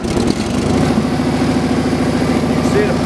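Motor of a Frick sawmill chop saw running steadily at close range, a continuous rumbling hum with a rhythmic low-end pulse that holds even throughout the short stretch.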